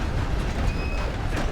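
A train in Red Dead Redemption 2 Online rolls past with a continuous loud rumble and a brief high metallic wheel squeal, with no talking over it.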